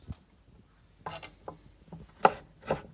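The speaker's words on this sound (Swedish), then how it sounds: "Nu hackar vi upp ingefära och gurkmeja som vi ska ha i också." Ginger and turmeric being chopped with a knife on a board for lactic-fermented vegetables: scattered sharp single chops and short scraping cuts, close and fairly quiet, with pauses between strokes.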